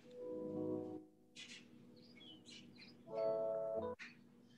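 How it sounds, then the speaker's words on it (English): Birds chirp and sing in short bursts of bright, varied calls, fairly close and clear, with no voices over them. "oh, birds singing"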